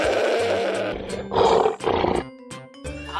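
A cartoon lion lets out loud, close roars, several bursts in a row with short gaps between them, heard alone with no talking.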